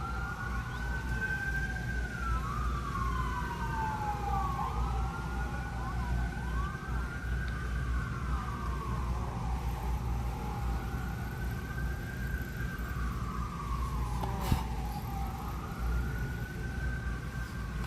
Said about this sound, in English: I've never heard so many sirens in my life.